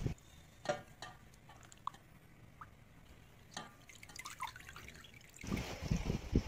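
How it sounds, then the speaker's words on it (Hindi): Water dripping and trickling off flour-coated chicken dipped in cold water, quiet scattered drips close by, ending in a louder splashing trickle. "अब हम इस चिकन को पानी के अंदर डिप कर देंगे।"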